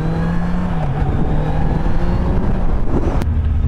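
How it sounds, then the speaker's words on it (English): A 2016 Kawasaki Z800 motorcycle accelerates smoothly, its engine drone rising steadily and loud from the rider's position with heavy wind rush throughout, no talk. "The acceleration of this bike is so linear, it's so smooth"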